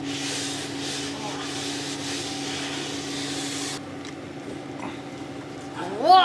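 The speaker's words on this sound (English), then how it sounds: "You've got a brush on a drill." A rotary brush spun by a drill works across a snowboard base, making a steady close whirring scrub for several seconds before it stops, leaving quieter handling noise and a brief squeak at the end.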